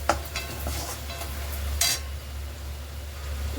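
Chicken fried rice frying in a pan, a low sizzle with a few bursts of scraping as it is stirred and tossed, close by and moderately loud.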